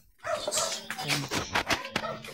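A dog barking on a junk-collecting street round, several sharp barks and yips close by after a brief quiet start, with some whimpering tones and a little background noise.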